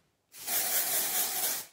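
A can of dry shampoo sprays in one continuous hiss of about a second and a half, loud and close, with an abrupt start and a tapering end, and no talking.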